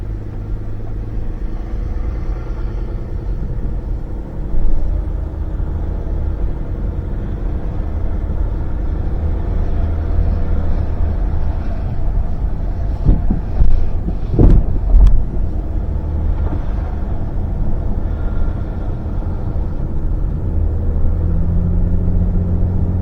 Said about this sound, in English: Let's go for a little test drive.